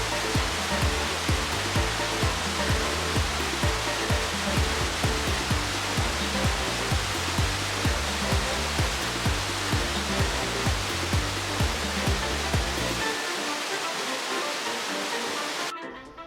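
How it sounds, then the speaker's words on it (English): Eyipantla waterfall in Veracruz, Mexico, 40 meters wide and 50 meters tall, thunders with a dense, constant roar of falling water that stays loud and unbroken before cutting off at the end. "Eyipantla in Nahuatl means three-stream waterfall, and that perfectly describes what this waterfall is."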